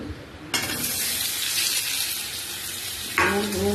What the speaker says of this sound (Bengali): আর হলুদ দিয়ে আলুগুলো ভেজে নেব